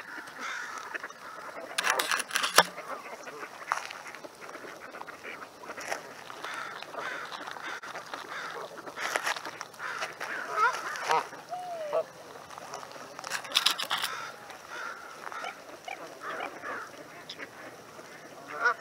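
Waterfowl on the water in a Seattle neighbourhood give scattered honks and quacks, some close and some farther off, over a low background hum.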